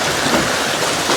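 Heavy rain pours in a steady, dense roar around an outdoor eating spot surrounded by nature, filling every moment with even, unbroken hiss and no voices.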